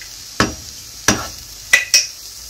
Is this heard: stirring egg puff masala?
yes